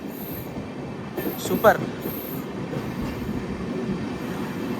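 Tirupati Express LHB coach rolling through Kadiyam railway station, a continuous on-board rumble with a brief squeal and a short voice partway through.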